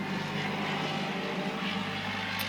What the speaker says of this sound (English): A little four-wheeler going by.